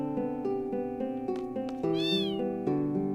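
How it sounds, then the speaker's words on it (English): A cat in the Final Fantasy VIII video game meows once, a short rising cry over steady, looping game music. "Aw, look at the kitty."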